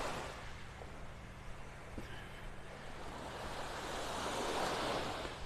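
Gulf waves wash onto Vanderbilt Beach in North Naples, Florida, making a steady, soft roar of surf with some wind rumble, gently swelling toward the end and heard at a distance.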